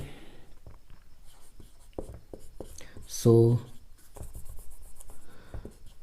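Chalk or marker strokes on a board during a classroom grammar lesson, short scratchy marks spaced irregularly, with a brief loud tonal burst midway and a teacher's voice nearby.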